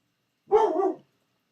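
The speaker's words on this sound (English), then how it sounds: "Bella, bark for big candles" A single short bark from a pet dog, close and clear, standing alone in an otherwise quiet room.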